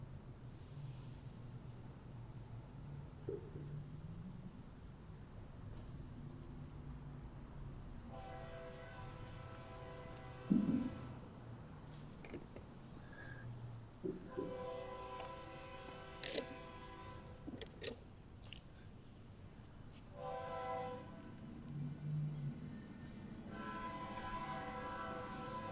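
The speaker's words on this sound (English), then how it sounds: "This is train NS188. So NS188, northbound approaching us." A northbound Norfolk Southern freight train approaches a rail junction at North Dalton. A distant rumble grows, then comes a series of horn blasts in several long bursts, with no one speaking.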